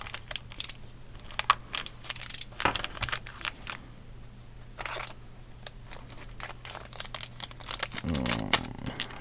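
A mail package is cut open with irregular crunching, crinkling and snipping close up, sharp scattered bursts of plastic or cardboard rustle and a final rougher tearing scrape, with no talk.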